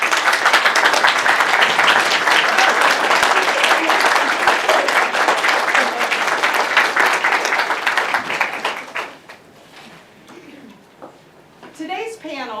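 A large standing audience at an academic panel applauds steadily and loudly for about eight seconds, the clapping then thinning out into scattered claps with faint bird calls in the background.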